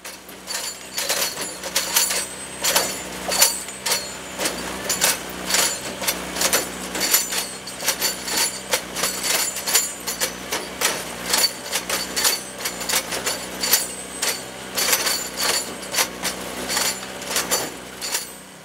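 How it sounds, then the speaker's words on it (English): Railway spike puller lifting spikes from old jointed rail during replacement with welded rail, loud repeated metallic clanks and sharp impacts in an irregular rhythm over a low machinery drone, outdoors and close. "Here we see a spike puller lifting the spikes out of the old rail."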